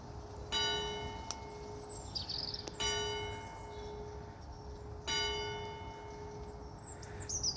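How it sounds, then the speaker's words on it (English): A church bell at a historic house garden rings three clear, evenly spaced strikes with long ringing decay, moderately distant in a quiet outdoor setting with faint background ambience. "Chiming 11 o'clock."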